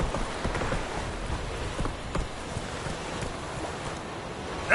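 The Witcher 3's horse Roach trotting in a steady clip-clop of hooves, moderately close, over a soft bed of wind and rustling ambience.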